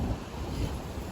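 Steady outdoor wind buffets the microphone in a low, broad rumble that holds level for the whole moment, with no voices.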